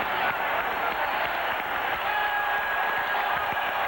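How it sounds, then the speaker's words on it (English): Basketball arena crowd at the Palace during a 1991 Celtics versus Pistons playoff game, a dense sustained roar of cheering and clapping that holds steady and loud, with faint commentary-style talk mixed in. "Listen to this crowd at the Palace."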